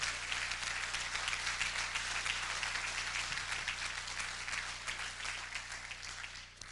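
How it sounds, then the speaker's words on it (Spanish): A church congregation claps together in steady, dense applause that holds for several seconds and slowly fades toward the end. "Pues denle un aplauso, dígale al Señor"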